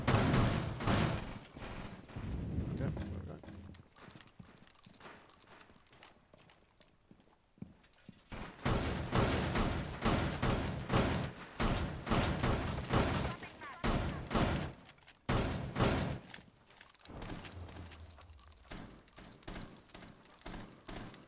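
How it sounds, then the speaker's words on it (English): Gunfire in the video game Rainbow Six Siege crackles in repeated bursts through a busy game soundscape, with voices faintly present in the mix. "Where's that gunfire coming from?"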